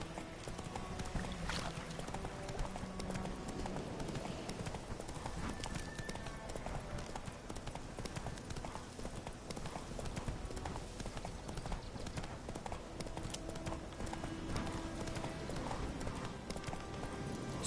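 Horse hooves gallop in The Witcher 3 with a steady, rapid clip-clop rhythm that continues throughout at moderate volume, with occasional faint voice and ambient game sound.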